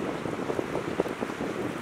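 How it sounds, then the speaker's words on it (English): Strong wind buffets the microphone in a steady roar on an island in the Canadian wilderness, with gusty rumbles and faint sloshing of choppy water beneath it. "Super windy."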